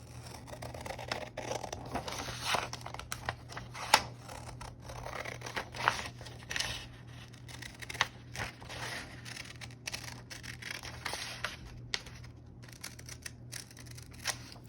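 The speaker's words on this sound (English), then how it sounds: "we're going to use our scissors, and we're going to cut the beginning of our guide out" Scissors snipping through paper while cutting out a guide for a three-hole pamphlet stitch, a close, quiet series of irregular crisp snips and rustles spread across the whole stretch.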